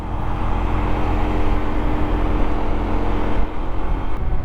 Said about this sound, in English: Traffic, traffic, traffic.